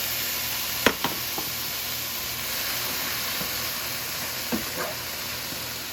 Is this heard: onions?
yes